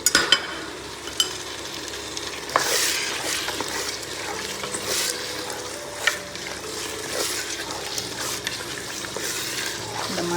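Parboiled mutton fries in hot oil in a pot for biryani, giving a steady sizzle under repeated spoon stirring and scraping against the metal, close and fairly quiet, with no talk.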